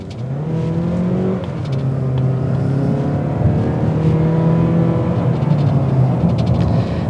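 From inside the cabin, a 2022 Mazda 3 Hatchback pulls away on the road, its engine note climbing through rising whines and gear changes over steady road rumble, with no talking.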